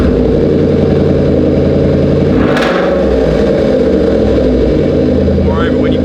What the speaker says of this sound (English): once you start the thing up you'll realise this isn't an everyday vehicle